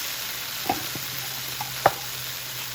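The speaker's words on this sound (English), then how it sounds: "once these are done browning on the other side, I'll put the next batch in" Beef pieces for a stew brown in a pan with a soft, steady sizzle, broken by a few sharp clicks of a utensil.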